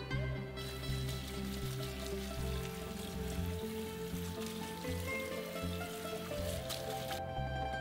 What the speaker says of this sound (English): let them cool by rinsing them under running water